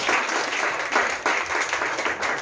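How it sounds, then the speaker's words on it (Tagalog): A church congregation claps together at an online Sunday service, a steady dense applause held at even loudness throughout, with no voices over it. "Okay, palakpak po natin."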